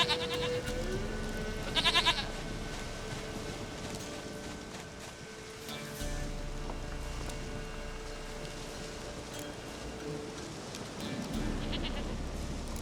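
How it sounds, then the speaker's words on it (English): Goat bleats from the video game The Witcher 3 Wild Hunt, a couple of short, bright calls near the start over a steady bed of ambient game sound and soft rain-like noise. "Goat of mine, dearest, sweetest goat."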